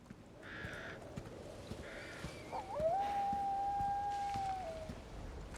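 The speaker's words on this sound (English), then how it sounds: "Oh, it's just cute doggies." Dogs howl in the Resident Evil 4 Remake video game: a few short, distant cries, then one long, drawn-out howl that holds steady before fading, over a low ambient backdrop.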